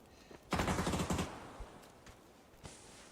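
Burst of rapid automatic gunfire in a PUBG esports match, loud and dense for under a second, then a few sparse single shots trailing off at a distance.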